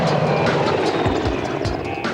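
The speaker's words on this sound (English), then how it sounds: "She's got 4 Merlins on board, the Royal Navy's favourite helicopter" A Royal Navy Merlin helicopter aboard the aircraft carrier HMS Ocean thrums loudly and close, its rotor beat pulsing through a dense, constant engine roar.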